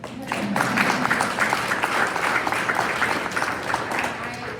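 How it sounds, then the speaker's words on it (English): An audience at a Capitol Hill briefing on community college funding applauds in a steady, close burst of clapping that fills the whole stretch at an even level. "Yeah, we can applaud for that."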